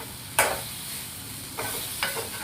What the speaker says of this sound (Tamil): கொஞ்சமாக காஷ்மீரி மிளகாத்தூள் போட்டு கலருக்காக மட்டும் சேர்த்து எண்ணெயில் அப்படியே நல்லா கொஞ்சம் பரட்டி எடுத்துக்கலாம்